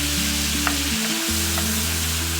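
Cooked yellow pumpkin curry is stirred in a pan, a loud close sizzle with scraping stirs and a brief break midway, no voices present.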